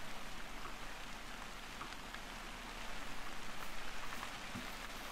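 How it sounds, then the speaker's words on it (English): Steady rain falling in a video game hunting world, a dense even hiss with scattered droplet taps, continuous throughout and moderately quiet. "So the sound is already being like masked by the rain."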